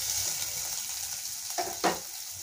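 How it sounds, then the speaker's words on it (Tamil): Onions and curry leaves sautéing in coconut oil while cabbage poriyal with dried red chillies is being made, giving a steady close sizzle with two brief louder stirring scrapes near the end and no talk. "நல்லா வதக்கி கொடுத்துக்கலாங்க."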